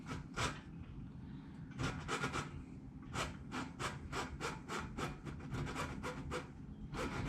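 Rubbing the end of a speedometer cable back and forth on a 1959 Vespa 150 VBA1T scooter makes a steady run of close, scratchy, wood-like rasping strokes in a quick, uneven rhythm, with no talking.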